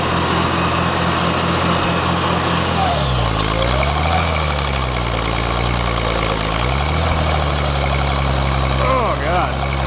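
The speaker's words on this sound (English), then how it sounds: "We have enough fuel to make it up there and back, so let's go for a little putt-putt." A Bros SP-54 roller, an old abandoned compaction machine, chugs steadily with a loud low engine drone that dips and surges as it pulls away, with a person talking over it.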